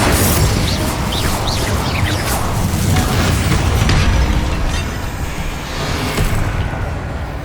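A fire spell cast in the video game Hogwarts Legacy bursts out as a loud, roaring whoosh of flame with a booming low rumble, sustained for several seconds and thinning slightly near the end, alone without talk.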